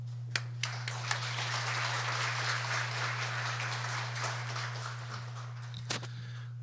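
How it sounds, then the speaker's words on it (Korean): Welcoming applause from a church congregation for an arriving missionary, a steady wash of many hands clapping at moderate distance, with a few louder nearby claps standing out and no talk over it. "나오실 때에 환영의 박수를 해주시기 바랍니다."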